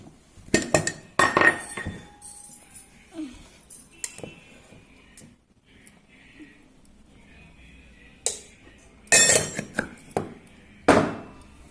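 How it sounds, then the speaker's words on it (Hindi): A spoon clinks and scrapes against a metal vessel while khoya, dry fruits and ghee are mixed, giving scattered sharp knocks with quiet gaps between them and faint background sounds. "ये खोया मिक्स कर लेंगे, ये मेवा, थोड़ा सा घी डाल लेते हैं"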